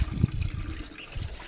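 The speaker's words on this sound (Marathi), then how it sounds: "पाणी पाजून झाले शीताला. आता धुतोय" Water splashing and trickling as a buffalo is washed on a farm, a soft, low, uneven sloshing with a few slightly stronger splashes, fairly quiet and with no voices.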